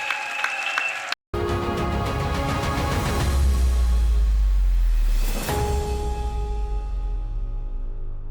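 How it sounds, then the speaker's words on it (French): Church assembly audience clapping together for Jesus Christ, a dense burst of applause that builds and then fades, with some tonal background sound behind it. "Clap for Jesus Christ."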